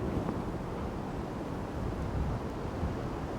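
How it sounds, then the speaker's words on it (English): Wind buffets the microphone in a continuous low rumble beside a small river, steady and fairly loud, with no voices. "It's so windy today, it's unbelievable."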